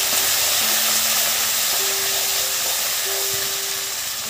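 Shredded cabbage hits a hot pan and gives a loud, unbroken hiss of sizzling and steam that fills the whole moment, with faint tonal hums underneath.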